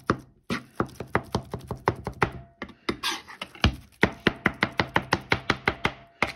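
Aubergine caviar being mixed with garlic, heard as a fast run of sharp, regular taps and knocks of a utensil against a bowl, close and crisp with short breaks.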